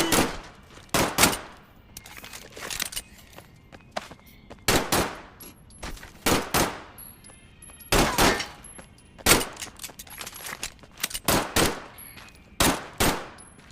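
Gunfire in Medal of Honor, with repeated loud, close bursts of rapid shots and single cracks separated by short pauses, trailing echoes between volleys.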